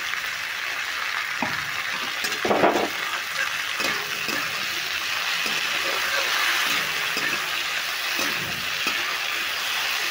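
Onions and tomatoes with green chillies frying gently in a pan for a duck egg curry, with a steady soft sizzle and a few light stirring knocks, close by and with no talk.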